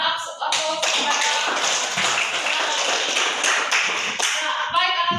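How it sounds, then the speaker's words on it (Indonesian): Classroom applause for a student, a dense burst of many hands clapping that continues steadily for about five seconds. Voices are heard at the start and the end. "Mari kita berikan aplaus kepada."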